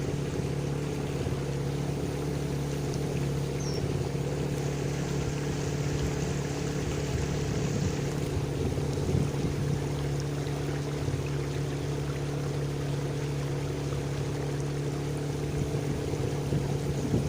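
A boat travels on the Danube river, its engine a steady low drone with constant water and wind noise throughout, no voices.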